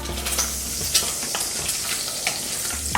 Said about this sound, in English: Let me stir my bacon a little bit more.